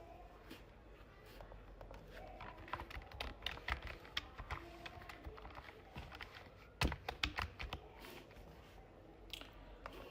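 Someone types on a computer keyboard, entering a name into an online TIN certificate form, in quiet, irregular bursts of close, light keystrokes with a few sharper clicks.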